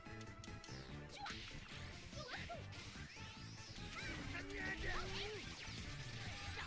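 Heavy mace strikes in a video game boss fight land as repeated whooshes, whip-like cracks and crashes in quick succession, over game music and effects at moderate loudness.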